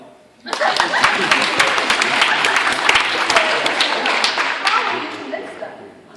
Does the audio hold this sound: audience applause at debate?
yes